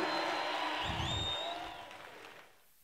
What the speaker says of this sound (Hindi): जरा जोरदार तालियां बजा दीजिए